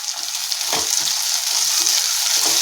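Chopped tomatoes sautéing with onion and ginger-garlic paste in a pan for a chicken curry, giving a steady close hiss of frying with a few soft stirring scrapes and no talk.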